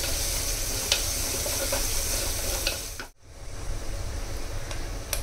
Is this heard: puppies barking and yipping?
no